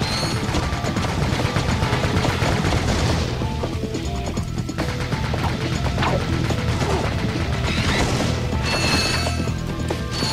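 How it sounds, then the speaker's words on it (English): Weapon fire from pot shots in the Ratchet and Clank video game, a dense, loud wash of mechanical clatter, crashes and impacts that runs continuously through the whole stretch without a break. "Just ride around and have some fun taking pot shots."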